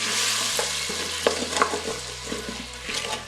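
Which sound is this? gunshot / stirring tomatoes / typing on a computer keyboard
stirring tomatoes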